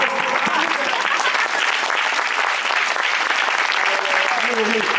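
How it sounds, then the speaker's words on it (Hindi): Congregation at a church sermon clapping hands together, a dense, steady wall of applause filling the whole stretch, loud and sustained, with voices mixed in underneath. "ये ताली है ना, ये मच्छर मारना ताली।"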